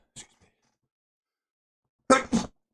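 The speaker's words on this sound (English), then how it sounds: "sneezing's back, ladies and gents" Two sharp sneezes, a small one followed after a pause by a louder, fuller one, in an otherwise quiet room.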